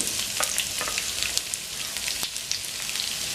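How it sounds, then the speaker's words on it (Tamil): Chopped onion and green chilli crackle in hot oil in a pan, a dense, close, unbroken sizzle with fine spattering pops throughout. "நம்ம கட் பண்ணி வச்சிருக்கிற வெங்காயம், பச்சை மிளகாய் சேர்த்துக்கலாம்."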